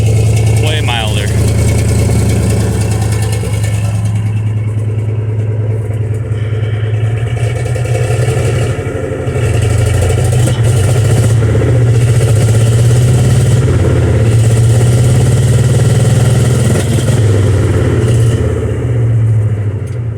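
Chevrolet C60 truck engine fitted with Flowmaster Super 10 mufflers, a loud steady low exhaust drone with slight swells, heard up close.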